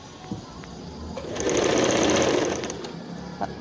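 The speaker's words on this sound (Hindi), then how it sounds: "तो हम यहाँ नीचे के हिस्से पर अभी सिलाई मार लेते हैं।" A sewing machine stitching along the lower hem of a salwar, its motor whirring up into a steady, rapid run for about a second and a half, then slowing, with light clicks and handling sounds before and after.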